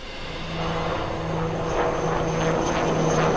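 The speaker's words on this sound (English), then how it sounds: "Behind the Daksh, you can now see the advanced light helicopters Mark IV of the Indian Army, known as the Rudra." Indian Army HAL Rudra advanced light helicopters flying at the Aero India air show, a loud steady rotor and engine drone with a low beating hum that holds throughout.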